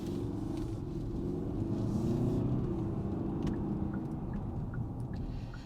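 A 2025 Hyundai Santa Fe XRT turbocharged SUV on the move produces a steady, muffled low rumble of engine and road noise, faint and continuous throughout, heard from inside the cabin.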